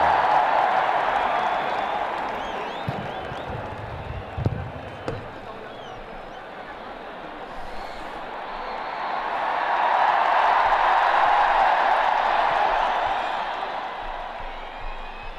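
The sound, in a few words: crowd cheering at the Namaste Trump rally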